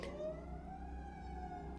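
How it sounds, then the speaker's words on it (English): A wailing emergency siren outside a house, its steady tone drifting slightly in pitch, moderately loud and continuous over a low background rumble. "And there's a siren"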